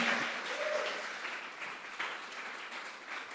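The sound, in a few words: applause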